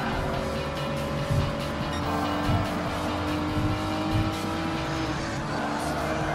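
A 2001 Porsche 911 racing in Gran Turismo Sport, a steady loud engine drone with sustained tonal whine and tyre noise throughout, no pauses.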